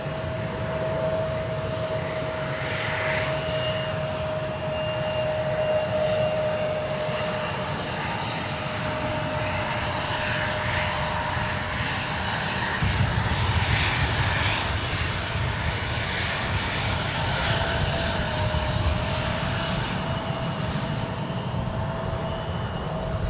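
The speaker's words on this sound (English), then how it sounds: "Runway 12 right, clear to land." A Southwest Airlines jet landing on runway 12 right at Minneapolis–St. Paul airport: a steady, broad engine roar that holds and swells slightly through the middle, with a faint tonal whine running across it.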